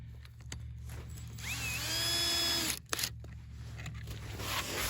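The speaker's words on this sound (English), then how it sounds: "Cordless drill with a Torx 25 bit" Cordless drill with a Torx 25 bit driving a 2 3/4 inch screw into a fence outdoors, a single whining run of about a second and a half that rises in pitch as it spins up, over steady background noise.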